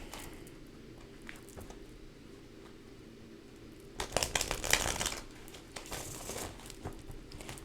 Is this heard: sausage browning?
no